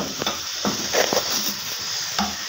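Potatoes with cumin are stirred and roasted in a pan, a constant close sizzle with several soft scraping strokes of a spoon at an uneven pace.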